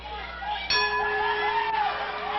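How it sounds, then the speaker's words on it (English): A wrestling ring bell at a pro wrestling match gives a single clang that rings on and fades, with faint crowd murmur beneath. "Bell has rung."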